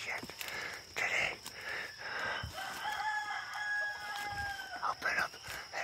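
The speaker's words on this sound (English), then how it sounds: "Shh, quiet, you fucking chickens." Chickens crow and cluck repeatedly in a Hawaii yard, close and fairly loud, with a few rising crow calls and a quiet voice murmuring at times.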